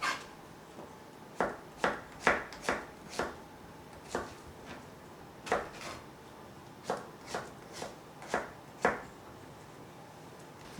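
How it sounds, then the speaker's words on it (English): A knife slices through yellow squash on a cutting board, a run of about fifteen crisp, separate cuts in an uneven rhythm, near and fairly quiet, with brief gaps between strokes. "Same thing with the yellow squash. Cut off the ends. Cut it the same way you do the green squash."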